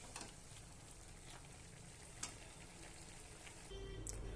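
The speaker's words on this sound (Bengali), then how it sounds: "এবার আমি ভালোভাবে এটাকে কষিয়ে নেব।" Boiled food being stir-fried in a pan gives a faint, steady sizzle with soft scraping strokes and occasional light clicks, quiet and close with no talking.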